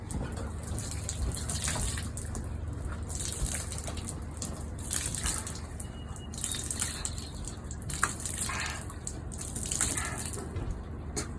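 Water runs steadily from a tap or bottle while someone flushes their eyes outdoors after being hit with bear spray, a continuous splashing gush with brief drips throughout.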